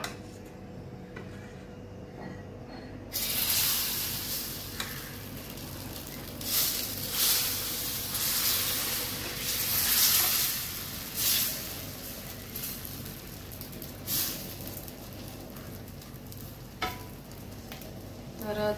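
Bhagar (barnyard millet) fasting dosa batter hits a hot pan and sizzles, the frying hiss rising after a quiet start and surging in waves, close and moderately loud, with no talk.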